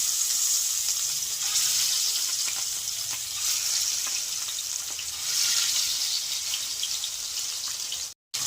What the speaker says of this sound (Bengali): আস্তে আস্তে মাছ ভাজাটা হোক।